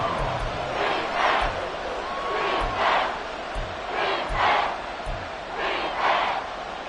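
Football stadium crowd roaring during a game, a broad sustained swell that rises and falls in repeated surges with low thumps underneath, loud and filling the whole clip.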